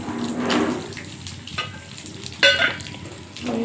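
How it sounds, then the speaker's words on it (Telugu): Peanuts roasting in a pan, dry rattling and scraping as they are stirred, with a few sharper knocks from the utensil against the pan. "ఇప్పుడు పల్లీలు వేయించుకోవాలి"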